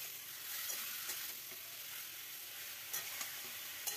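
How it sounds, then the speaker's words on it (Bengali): Chicken pieces fry over high heat in hot oil for a butter chicken recipe, giving a steady close sizzle broken by a few scraping stirs, with no voices present. "এবার চিকেনগুলোকে একদম হাই হিটে নাড়াচাড়া করে ভেজে নেব"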